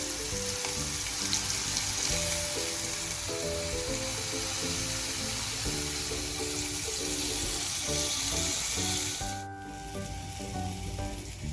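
Chicken shashlik skewers fry in a hot pan, giving a steady, close, hissing sizzle that holds level throughout and then eases slightly near the end, with no talking.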